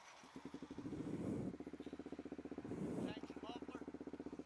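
A Kawasaki Z125 motorcycle fitted with a Bazzaz fuel controller, aftermarket exhaust and intake, and fuel injection, revs up twice from a rhythmic, chugging idle, close by and steady between the blips.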